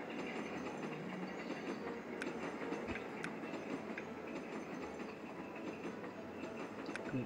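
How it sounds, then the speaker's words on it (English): Train running in the Train Station 2 railway sim video game, a steady rolling rumble with light clickety-clack and occasional metallic ticks continuing throughout, with no talk. "Right, what's this train doing?"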